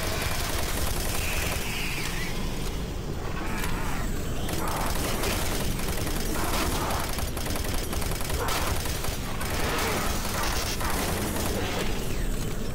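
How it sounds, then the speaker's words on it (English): Rapid bursts of gunfire and booming explosions from the video game DOOM 3 with the Redux mod, dense and continuous, with mechanical clatter mixed throughout. "now there are a lot of explosions around"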